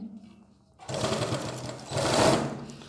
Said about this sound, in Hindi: आपको ऐसे सेट करके हल्की सी सिलाई लगाएं थोड़ी आगे की तरफ